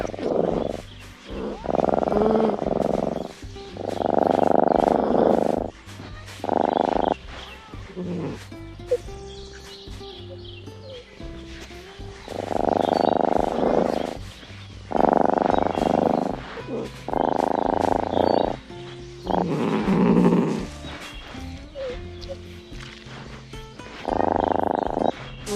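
Tiger cub calls from the Kinectimals video game come as repeated bursts of growly mewing and roar-like cries, loud and close, separated by short pauses over faint game background sounds.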